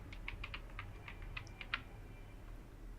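Quiet, close typing on a computer keyboard, about a dozen light key clicks in an irregular burst during the first two seconds, then a faint background hum alone.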